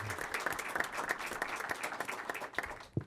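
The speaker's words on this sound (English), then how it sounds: "give her another round of applause" A city council chamber fills with applause for a young honoree, a steady run of many hands clapping at moderate volume for about three seconds before it tapers off.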